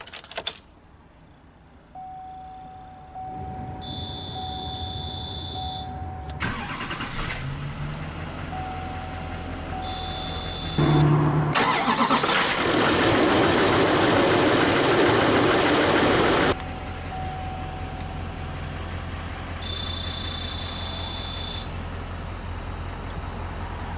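A 2013 GMC Sierra 2500HD with a 6.6L Duramax diesel cranks and starts, then settles into a steady, close diesel idle. Electronic chimes sound beforehand and a loud blast of broadband roar lasts several seconds midway.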